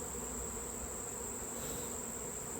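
Honey bees buzzing around an open hive during a honey harvest, a faint steady drone with a high whine, continuous and alone.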